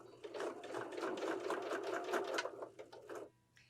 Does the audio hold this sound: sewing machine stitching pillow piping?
yes